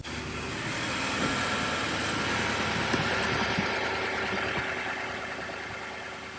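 A 2021-2024 Nissan Armada engine idles steadily after an oil change, a continuous close rumble with a slight swell in the middle and no speech.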